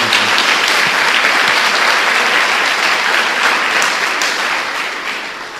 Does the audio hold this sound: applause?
yes